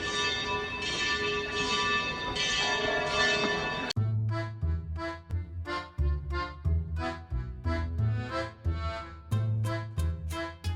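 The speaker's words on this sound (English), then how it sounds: "all the bells of the churches in the castle are chiming" Church bells of Prague Castle ring out at seven o'clock, a dense sustained peal that gives way to repeated, clearly separated strikes of several bells chiming in irregular rhythm, loud and resonant with no talking.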